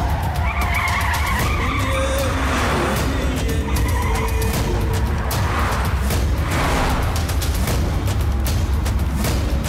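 A car tears along in an action-movie chase, tires skidding and squealing loudly and continuously over a roaring engine, with scattered thumps and impacts throughout.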